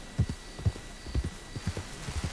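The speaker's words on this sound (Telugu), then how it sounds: "ఏంటి నా గుర్రం పేరు శాండీ అని పెట్టుకున్నానా" Horse hooves clip-clop in a steady trotting rhythm in the Red Dead Redemption 2 video game, close, clear and heard alone with a soft background hum.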